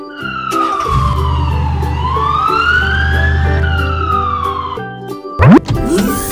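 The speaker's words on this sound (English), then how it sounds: "Police car." A police car siren wails loud and alone, a rising and falling tone sweeping slowly over several seconds above a steady engine hum, ending in a short burst of other noise.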